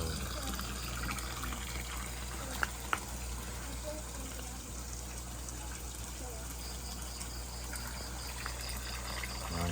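Water trickles steadily and faintly into a crayfish tank, with a pair of sharp drip ticks close together near the middle.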